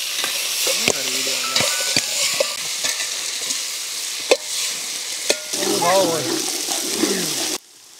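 Onion, green chili, turmeric and spices fry in oil over a desert campfire in Rajasthan with a continuous close sizzle, broken by sharp clinks and scrapes of stirring, while voices talk intermittently over it.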